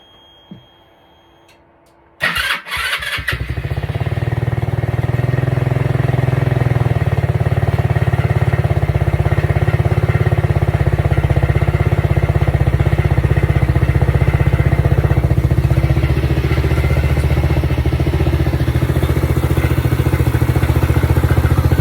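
A Lexmoto 125 motorcycle, rebuilt after a heat seize, starts after a brief quiet moment with a sharp burst and then runs loud and steady in a rough, close idle until the end.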